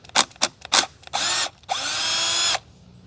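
A power drill works on screws atop a Pentair sand filter: three short trigger bursts followed by two longer sustained whines, close and loud, with a quiet pause between runs.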